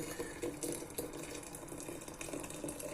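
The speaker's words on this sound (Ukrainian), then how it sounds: "заливаємо окропом" Boiling water poured from a kettle over elderflowers for jam, a steady close splashing pour running for about three seconds with no talk.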